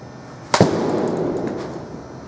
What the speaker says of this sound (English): going to try and hit a few on the barrel so you can hear the sound